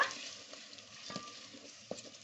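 A spoon or spatula stirs thick tomato paste in a pot for a yellow bean stew, giving soft scraping strokes over a low, steady sizzle, close by with no talking.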